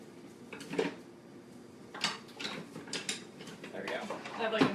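Someone rummages through a kitchen drawer full of wooden spoons, producing several sharp clattering bursts of wood knocking together amid quieter shuffling, close and intermittent, with a voice speaking in between.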